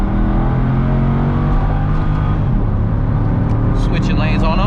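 A C6 Corvette engine pulling under light throttle while driving, a loud, steady low drone from inside the car, with someone talking over it.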